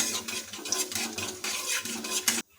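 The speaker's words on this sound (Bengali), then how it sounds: "ভালোভাবে খুন্তি দিয়ে নাড়িয়ে নেব।" A spatula scrapes and stirs bay leaf, dried chilli and whole cumin in hot oil in a wok, making quick rhythmic metallic scrapes over a light fry. The stirring stops abruptly near the end.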